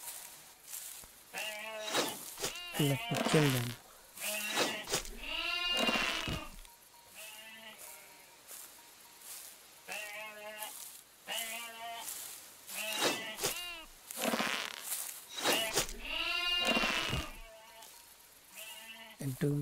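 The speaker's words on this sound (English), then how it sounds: "The sheep have just detected us." Sheep in the first-person fighting game To the Dragon Cave let out a series of loud, wavering bleats in repeated bursts. Someone talks between and over the cries.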